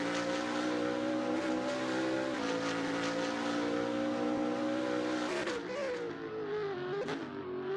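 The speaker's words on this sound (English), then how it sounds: "Very aggressive on the downshifts there." A BMW race car in a racing video game on a hot lap, its engine howling at high revs and then dropping pitch through quick, aggressive downshifts, loud and continuous, with a commentator talking over it.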